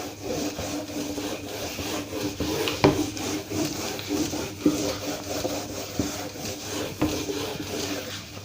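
An eraser rubbing writing off a board in a classroom gives steady scratchy, rasping strokes with a few sharper knocks, fairly close and continuous, with no speech.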